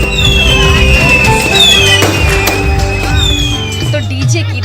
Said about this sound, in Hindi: चारों ओर आतिशबाजी हो रही है